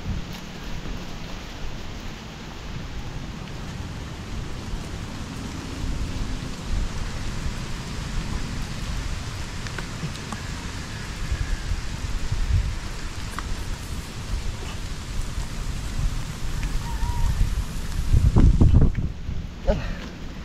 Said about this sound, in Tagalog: Kahit na ulan,